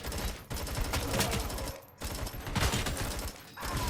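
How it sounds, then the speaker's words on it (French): The ED-209 robot in RoboCop: Rogue City fires at the player in loud, sustained machine-gun bursts. Two long volleys are split by a brief pause, with mechanical clatter and no talking over them. "J'ai l'impression qu'il me tire dessus."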